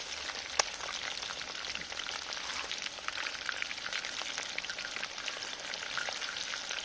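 Quail pieces sizzle steadily in hot oil in a pan for a Kerala-style quail fry, a dense close crackle with scattered sharp pops and the occasional scrape of stirring, with no voices.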